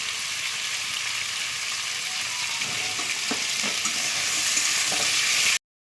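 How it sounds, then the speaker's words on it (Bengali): Potatoes and onions fry in a pan with a constant sizzle, broken by a few scraping stirs near the end before it cuts off. "দেখো আমার আলু আর পেঁয়াজগুলো ভাজা হতে হতে"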